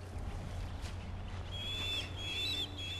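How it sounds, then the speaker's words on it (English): A bird call in the prehistoric game Far Cry Primal: thin whistling tones sounding twice over a low steady ambient drone, moderately close, with no talk. "Oh, I can be attacked by birds."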